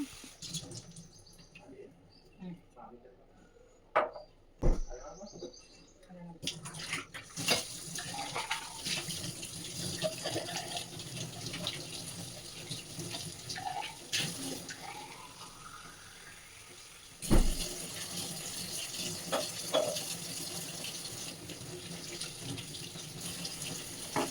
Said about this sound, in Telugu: మొక్కలన్నీ కూడా ఒకసారి వాష్ చేసేసుకొని వాటర్ చేంజ్ చేసి పెట్టేసుకుంటున్నా